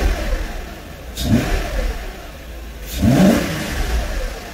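A cold Mercedes M119 V8 in an SL R129 revs twice, each quick throttle blip rising from a steady idle and settling back, heard close and clear with no talk.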